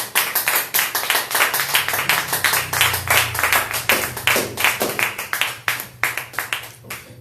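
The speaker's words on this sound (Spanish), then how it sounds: "Dale palmas de alabanza al que vive." A church congregation claps in praise at a worship service, with many hands striking in a fast, steady rhythm, loud and close, over a faint low tone.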